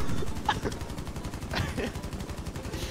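Light machine gun suppressing fire in Rainbow Six Siege rattles in a fast, continuous stream of regular shots, moderately quiet, with a few sharper cracks standing out along the way.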